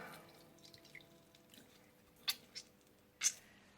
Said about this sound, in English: Some water's coming out.